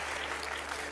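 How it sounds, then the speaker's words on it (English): A church congregation applauds during a sermon, a dense, loud wash of clapping that fills the whole moment without pause. "Let's clap for them."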